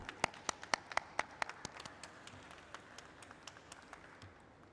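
Scattered, faint claps from a small group at a stock exchange listing ceremony, sharp and irregular at first, thinning out and fading toward the end.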